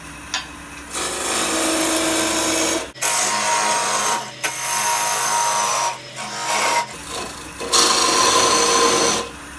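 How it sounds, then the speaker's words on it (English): Wood being cut on a lathe with a parting tool, taking light cuts while overhanging the chuck for a scorched ring holder; a steady close scraping rasp that breaks off briefly several times, with a deep motor hum dropping out mid-cut. "take some nice light cuts with our parting tool"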